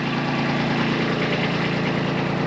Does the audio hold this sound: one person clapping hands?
no